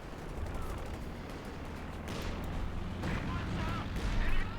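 An artillery shot from a Priest self-propelled gun in Company of Heroes 2 booms amid dense battle noise, with rumbling explosions and gunfire swelling toward the end under a commentator's voice.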